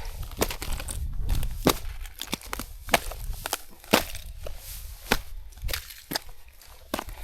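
A chunk of ice on a cold, snowy mountain hike being struck and forced apart, giving a series of sharp, close cracks and crunching snaps at an uneven rhythm over a low rumbling background.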